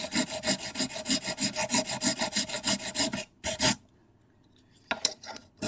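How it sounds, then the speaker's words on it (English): Rhythmic rasping strokes of files and 80-grit sanding sticks, steady back-and-forth scraping, then a pause and a few scattered scrapes. "we may just go straight to my files and my other sanding sticks"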